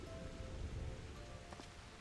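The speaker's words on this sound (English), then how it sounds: "We're all just standing out here in the rain." Rain in Final Fantasy XIV, a soft steady patter of drops falling on surfaces outdoors, faint and continuous with no talk over it.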